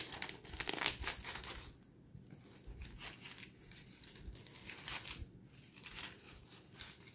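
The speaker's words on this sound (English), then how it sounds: "slip into my Ziploc bag." Folded paper towel slipped into a plastic Ziploc bag, giving soft crinkling and rustling bursts of plastic, close and quiet, with brief pauses between handling sounds.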